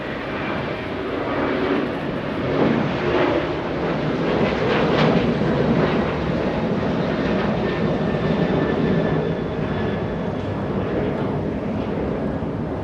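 A Boeing 747 landing at LAX and braking hard on the runway, a broad, steady jet roar with reverse-thrust rumble that holds loud throughout without fading, no voices.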